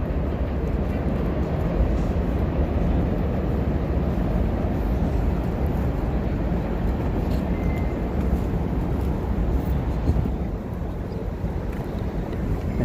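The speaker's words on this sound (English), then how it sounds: "I can hear my train. That's my train there." Number 7 subway train rumbling past on its way to Flushing near Flushing Meadows Corona Park in Queens, a steady loud low roar throughout, mixed with wind buffeting the microphone and easing slightly near the end.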